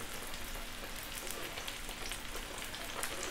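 An oyster omelette fries in a hot pan over high heat, a steady dense sizzle and crackle that holds evenly and quietly throughout.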